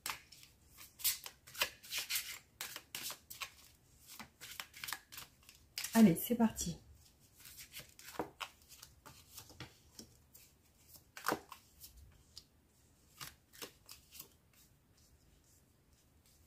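Tarot cards are shuffled in irregular bursts of riffling and snapping for a reading, close and crisp, with a brief spoken voice near the start and quieter pauses between shuffles.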